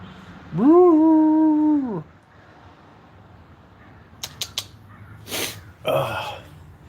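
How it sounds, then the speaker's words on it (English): A cat lets out a long, drawn-out yowl, then a few sharp hisses and spits follow after a pause, close by. "That's an angry cat."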